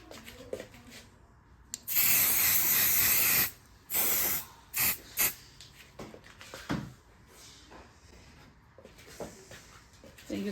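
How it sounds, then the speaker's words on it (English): Adhesive spray hisses onto the back of an appliqué patch for machine embroidery, one long close burst followed by several shorter puffs, then quieter handling noises. "You're gonna do now is you're going to spray the back of the patch."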